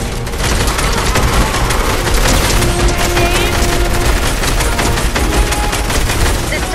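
Heavy video game gunfire fills the scene, with dense rapid bursts and booming impacts packed together at close range, a constant loud barrage that never lets up, with voices faintly mixed beneath it.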